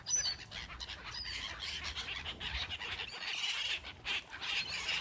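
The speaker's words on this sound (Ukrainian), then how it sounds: "Тільки що чайки там билися, там, напевно, щось є, якийсь шматок хліба або щось таке." Seagulls squawk and cry over a constant outdoor background in a Polish town, their calls repeating loudly through the clip as the birds squabble over food.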